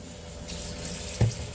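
Lukewarm water poured into masa dough for picaditas, a single brief close splash against a steady low background.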